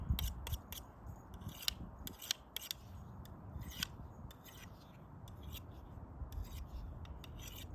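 A knife blade scrapes in quick, gritty strokes across a rock taken from a fire pit, a rasping, scissor-like rhythm repeated close up over a faint outdoor background.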